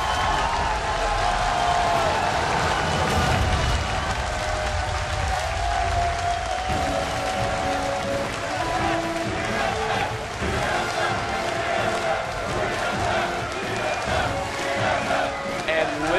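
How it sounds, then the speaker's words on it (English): A live esports crowd roars and cheers as TSM closes out game 1 against Curse in a League of Legends regional match. The noise is loud and sustained, with a tonal in-game sound and a voice mixed beneath it. "Listen to this crowd."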